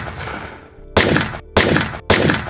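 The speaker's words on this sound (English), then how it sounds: "he shot through the window" Gunshots are fired through an apartment window, three loud, sharp, close blasts each followed by a brief ringing decay, the first after a quieter stretch.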